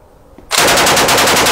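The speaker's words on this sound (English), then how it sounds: "You need a lot of practice if you're going to hit something with a machine gun." A full-auto machine gun opens fire on a pumpkin after half a second of quiet, unleashing a loud, sustained burst of rapid, evenly spaced shots close by.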